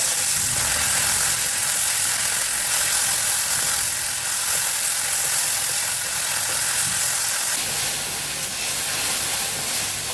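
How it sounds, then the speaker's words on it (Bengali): Mourala fish frying in oil, a continuous, fairly loud hissing sizzle that holds steady for the whole stretch with no voices over it. "আগে মৌরলা মাছটা ভেজে নিচ্ছি।"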